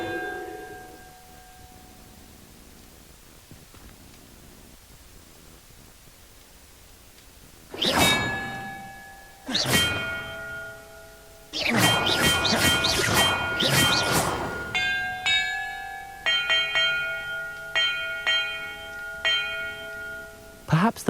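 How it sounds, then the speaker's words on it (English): Bells ring in the Hogwarts Legacy video game: several loud metallic clangs with long ringing tails, first spaced apart, then struck in a quick run, with a few lighter dings near the end. "the order I'm supposed to ring the bells in"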